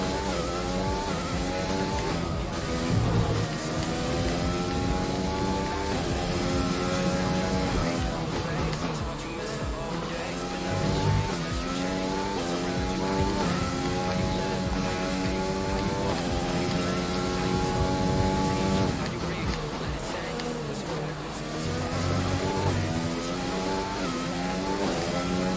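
A race car engine screams against its rev limiter at around 12,000 RPM in a racing video game, a sustained high-pitched buzzing wail with rapid stuttering cut-outs and brief dips as revs fall and climb again, loud throughout, with occasional talk.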